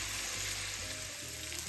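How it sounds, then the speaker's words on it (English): Meat and onions frying in a pan, a steady close sizzle with crackling hiss running without a break through the short stretch. "that's the meat and the onions and everything frying up here"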